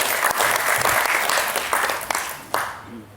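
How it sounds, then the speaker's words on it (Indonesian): Applause from an audience at an Indonesian film association (PARFI) gathering in Kuningan, a steady wash of clapping hands that swells and holds before thinning out toward the end. "Tepuk tangan buat ini."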